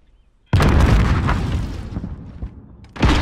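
Loud barrage of cluster strike explosions in a multiplayer shooter game: a sudden burst of booming blasts that rumble and fade over two seconds, then another blast kicks in.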